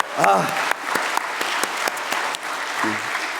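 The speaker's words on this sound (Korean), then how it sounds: "우리 다 같이 우리 격려의 박수, 하나님께 영광의 박수" A church congregation at a Wednesday service claps together in continuous, moderately loud applause, with a voice briefly heard over the clapping.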